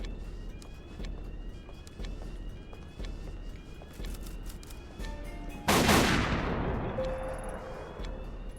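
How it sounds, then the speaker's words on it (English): A single loud gunshot fired at a lock in Tokyo Dark, sharp and close, ringing out after a stretch of quieter footsteps and ambience and trailing off in a long decaying echo. "Shoot the lock."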